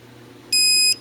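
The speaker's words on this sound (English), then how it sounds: "it'll make that beep. That means it's matched up." A single electronic beep from an iPets long-range dog training collar pairing with its remote, bright and steady, lasting under half a second over a faint low hum.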